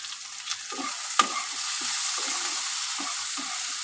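Food with a chili and salt sizzles in a pan, close up, while a spatula stirs and scrapes in short repeated strokes over a constant frying hiss, with no speech.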